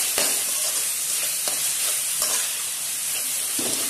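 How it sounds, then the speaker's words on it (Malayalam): Tomato, onion and masala fry over a very low flame in a pan, giving a steady, close sizzle with faint scrapes of stirring running through it the whole time. "ചെറുതായിട്ട് നമുക്ക് ഫ്രൈ ചെയ്യാം. അതുപോലെ തക്കാളി, സബോള, അങ്ങനെ മസാല നന്നായിട്ട്"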